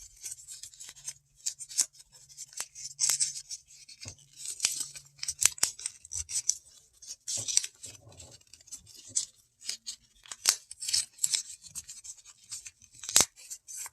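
Paper creased and folded for an origami ninja star, close, irregular soft rustles, rubs and crisp taps of the sheet being handled and pressed flat.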